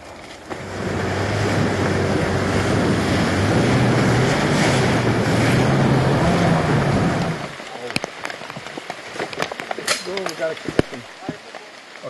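A boat motors along a rainforest river in the Amazon, its engine droning loud and steady with rushing water and wind for several seconds before cutting out, leaving scattered knocks and a voice talking.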